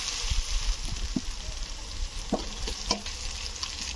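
Onion and garlic fry with chopped tomato and ginger paste in a pan, giving a steady close sizzle with repeated scraping and knocking of a spatula, with no talking.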